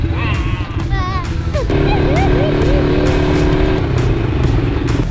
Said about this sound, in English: We're gonna go on an ATV ride.